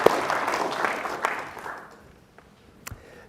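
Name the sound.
audience applause at an Opera House political forum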